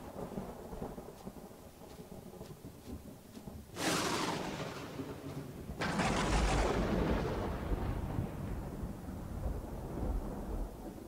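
A thunderstorm in the video game Empyrion: steady rain hiss, then a sudden loud thunder crack followed by a second rolling rumble that swells and slowly fades under continuing rain.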